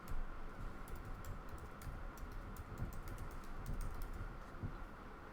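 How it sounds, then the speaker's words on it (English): Steady, fairly quiet clatter of fingers typing on a computer keyboard, keystrokes running continuously with no pauses and no talk. "Let me just type in the address."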